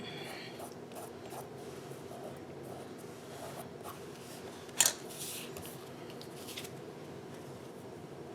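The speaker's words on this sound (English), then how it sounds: "then I'm gonna trim, fix this end a little bit" Paper snips make a single sharp cut as they trim the end of a piece of decorated paper, a brief crisp snip in an otherwise quiet room.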